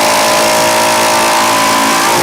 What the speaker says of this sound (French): ce que donne la visseuse à choc avec le même embout PZ3 et la même vis